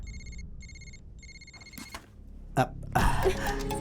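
A telephone rings in repeated short bursts with brief pauses, then the ringing stops and clattering noises follow.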